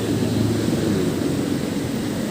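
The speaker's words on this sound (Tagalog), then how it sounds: "Masyadong malakas na yung uga." A Honda TMX 125 motorcycle idles with a loud, continuous, rough exhaust drone and a strong rattling lato-lato clatter from its engine, heard up close without talk.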